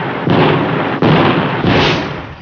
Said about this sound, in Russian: Батарея, огонь!